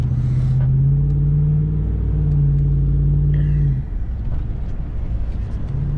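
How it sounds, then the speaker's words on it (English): A truck arriving to haul a broken-down trailer, its engine a steady low rumble with a droning tone for several seconds, then a brief hiss like an air brake before the drone cuts off and settles into quieter rumbling. "Let me find out if this truck is literally going to get that trailer."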